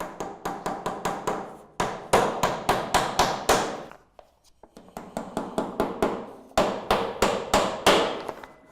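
Fixings are hammered into a Redland Rapid eaves ventilation strip, in two fast bursts of sharp, loud, close metallic blows separated by a short pause.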